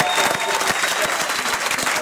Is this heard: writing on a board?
no